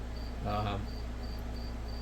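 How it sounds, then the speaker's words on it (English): Crickets chirp outside at night in a quiet, steady rhythm of faint high trills repeating over a low background hum, with a brief murmur of a voice partway through. "I can't sit out here and listen to these freaking crickets."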